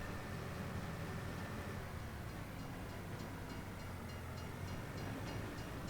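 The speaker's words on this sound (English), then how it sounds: "Right, get out of the way of the train." A train in Farming Simulator 25 rolls past with a continuous low rumble and faint rhythmic clatter of wheels on rails, steady and moderately distant for several seconds.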